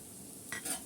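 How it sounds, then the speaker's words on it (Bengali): Chopped onion dropped into hot soybean oil in a pan for a chicken roll filling, giving a short, soft burst of sizzle that swells midway, quiet and close. "গরম হয়ে গেলে এখানে আমি পেঁয়াজ কুচি করে দিয়ে দিলাম কিছুটা"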